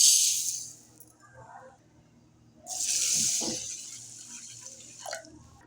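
Rice and toor dal rinsed with water in a metal pot, with splashy swishing and pouring in two bursts, a quiet pause between them, and soft clinks, heard close up.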